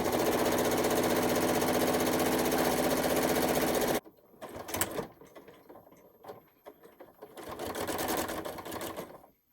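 A sewing machine stitches a reversible quilt with a loud, fast, even whirring run for about four seconds, then stops and leaves scattered clicks and handling noises before shorter bursts of motor sound.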